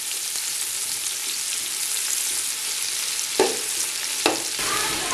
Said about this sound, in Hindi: अब इन प्याजों को हमने करना है सौते और हमने इसको अच्छी तरीके से पकाना है